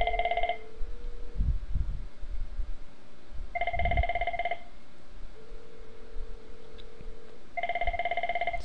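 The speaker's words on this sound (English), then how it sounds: "call going, ringing, still ringing. Should ring a few more times." An IP phone on a Cisco CME and Trixbox voicemail setup rings with an incoming call in steady, evenly spaced electronic ring bursts, three rings separated by pauses, with faint background hum and no talk.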